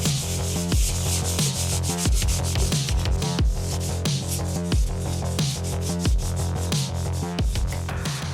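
Hand sanding of body filler on a Schaublin machine control cabinet, loud close rhythmic rubbing strokes repeating about twice a second in a steady back-and-forth pattern without talk.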